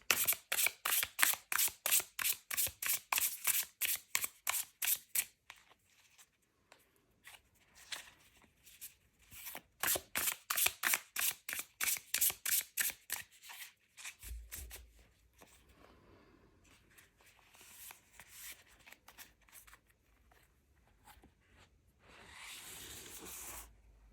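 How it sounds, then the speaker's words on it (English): A tarot card deck is shuffled by hand, close and crisp: quick riffled bursts of rapid card flicks, pausing and repeating, then softer sliding and rustling, ending with a brief hissy burst. "So let's have a shuffle."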